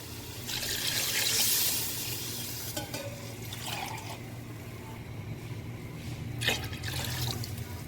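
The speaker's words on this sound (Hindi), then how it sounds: "अब मैं इसके अंदर पानी डालती हूँ" Water poured into a pot of rice cooking at home for a dawat, about 1.5 kilograms of it, starts as a loud splashing rush, then settles into lighter sloshing and trickling.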